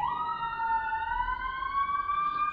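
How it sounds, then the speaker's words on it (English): An ambulance siren holds a steady, loud wail close by, its pitch slowly rising as it goes past. "Oh, here comes an ambulance. So I'm gonna let this ambulance pass by."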